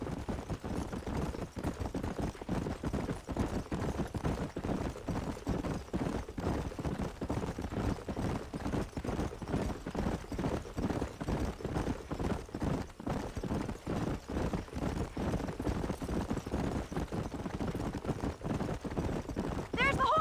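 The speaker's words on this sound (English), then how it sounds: "There's the horses!" Horses gallop in Red Dead Redemption with a fast, continuous clip-clop of hooves that runs steadily throughout at moderate level, while voices talk over it.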